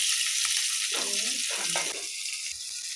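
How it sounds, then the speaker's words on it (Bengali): Potatoes and green chillies fry in a pan, giving a steady, bright, close sizzle that runs throughout, with a brief stretch of a voice talking over it. "কাঁচা লঙ্কা দিয়ে দিয়েছি, একটু ভেজে নেব আলু আর কাঁচা লঙ্কাটা"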